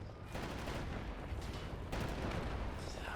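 Rapid gunfire and booming explosions from the Wolfenstein shooter game crackle in dense, overlapping bursts, fairly faint but continuous, with a heavier blast near the middle.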